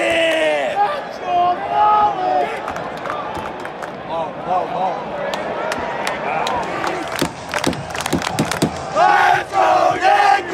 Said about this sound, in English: The crowd is getting fired up for Didi Gregorius.